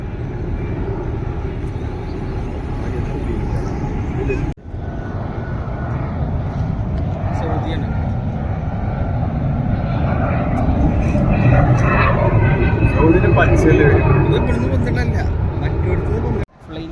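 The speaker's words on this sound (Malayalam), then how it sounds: "ഒരു ഫ്ലൈറ്റ് പൊന്തി." A loud, continuous jet-engine roar swells slowly as a Flynas airliner takes off nearby, with people talking under the rumble.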